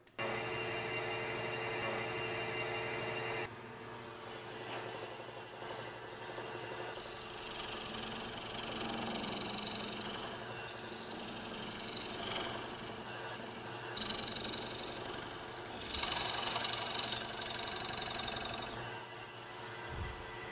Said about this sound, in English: So I'm going to take a scraper and go back over and try and smooth that up. So you'll have to start the lathe up again